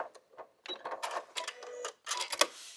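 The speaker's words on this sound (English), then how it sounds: "we're just going to put that under the sewing machine and stitch it" A sewing machine stitches a sashing strip onto a pink quilt square in short bursts of rapid mechanical whirring, pausing briefly between runs, close and fairly quiet.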